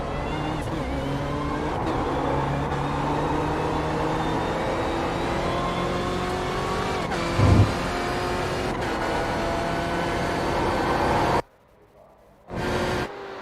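Onboard race car engine lapping Phillip Island in iRacing, a steady loud drone with rising and falling gear-change tones that cuts out abruptly near the end before a brief return.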